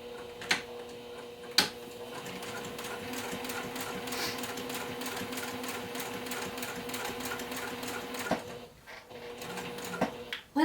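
A sewing machine stitching all the way around a fabric notepad holder after a back stitch at the top: a steady mechanical whir with fast needle ticking and a couple of sharp clicks, close by and alone.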